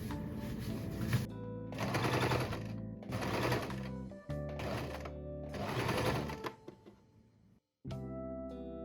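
Sewing machine stitching a qipao seam in close, loud bursts, several runs of rapid whirring separated by short pauses, ending with a brief stop before it starts again.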